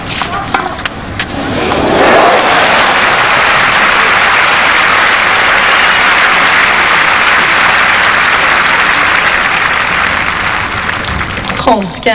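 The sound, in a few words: crowd applauding a backhand drop shot at tennis match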